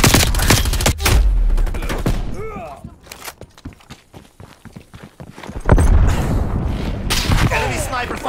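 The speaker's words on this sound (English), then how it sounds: "Enemy sniper fire." Sniper and gunfire bursts in a Nuketown match, with loud cracks and booms scattered across the scene and voices talking over the shooting.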